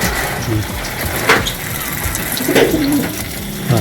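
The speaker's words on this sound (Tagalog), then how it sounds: "itong kalapati natin gusto ko naliligo nyo" Pigeons coo in soft low bursts close by, a few repeated calls over a steady background hiss of running water.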